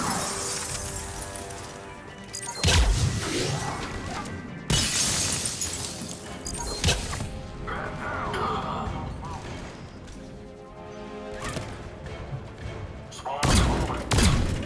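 Grenades explode at point blank in Mass Effect 3 gunfire: two heavy shattering bursts, each followed by crackling debris, over a continuous din of game combat noise.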